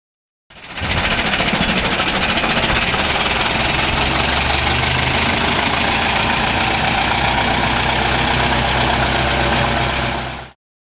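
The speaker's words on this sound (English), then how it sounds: "Minneapolis Moline Udeluxe Comfort Tractor." A 1938 Minneapolis Moline UDLX Comfort tractor engine runs steadily for about ten seconds, a loud, close, rough mechanical drone with deep low rumble and a dense knocking texture, heard alone without talk.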